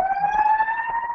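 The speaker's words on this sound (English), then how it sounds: "sorry about the sirens going by my window." An emergency siren wails steadily outside a window, a single clear rising tone holding loud and unbroken through the moment.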